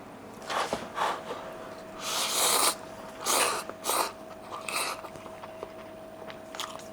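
Several close, loud crunching bites into Japanese sanshozuke, a preserved pickle, come as short bursts with brief pauses between them and no talking.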